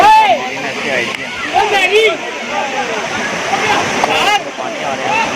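Water rushes and sloshes loudly in a canal near Simly Dam, Islamabad, close by and continuous, with excited voices and splashing from bathers mixed in.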